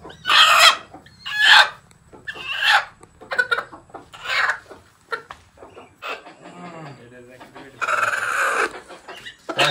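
Desi village chickens and a rooster at a rural home cluck and crow in repeated, close bursts, a loud crow among the clucking, with some voices talking in between.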